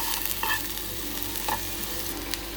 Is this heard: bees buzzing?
no